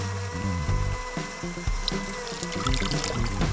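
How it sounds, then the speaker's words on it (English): Oil poured gradually into eggs being whipped for a salad sauce, a steady close pouring trickle with soft clinks and mechanical whirring underneath, continuous and fairly loud throughout. "whip the eggs by gradually pouring the oil in"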